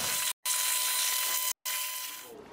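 A hairdryer blow-drying a wet motorcycle whooshes steadily and loudly, cutting out twice for brief moments before resuming, with a slight sputter at the end.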